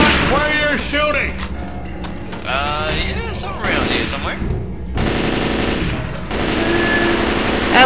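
Rapid automatic gunfire and scattered shots ring out in a Left 4 Dead 2 co-op match, loud and continuous, mixed with zombie growls and game sounds while players talk over the action.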